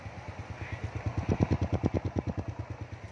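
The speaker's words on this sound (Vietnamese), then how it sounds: "Ôi máy nổ nãy giờ nữa anh em," A Honda Dream motorcycle engine, original and unrestored, idles with a close, steady, even chugging beat, rising slightly in loudness midway before settling.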